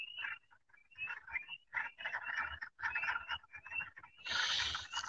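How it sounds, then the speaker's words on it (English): A pond frog gives repeated clucking croaks in uneven bursts, fairly close and fairly loud, with a denser, brighter call near the end and no voices. "the other frog that's clucking"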